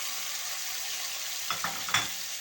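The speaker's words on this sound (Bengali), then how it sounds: "তো এইবার আমি এতে অ্যাড করব সেই প্রেসার কুকারে সেদ্ধ করা মাংস।" Garlic and onion frying in a pan hiss steadily as pressure-cooked boiled beef is tipped in, bringing a few soft thuds and a short burst of sizzle near the end.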